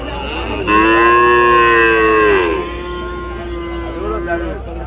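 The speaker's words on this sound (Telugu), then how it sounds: "జెర్సీ దూడ ఉంది ఇక్కడ" A Jersey calf moos loudly in a long drawn-out call at a cattle market, then a lower, quieter moo follows, with a faint background hum.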